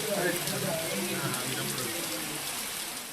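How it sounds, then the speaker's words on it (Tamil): Steady hiss of moderate summer rain falling in villages of Tamil Nadu, constant and fairly loud, with a voice speaking faintly over it. "காடையாம்பட்டி வட்டார கிராமங்களில் மிதமான மழை பெய்தது"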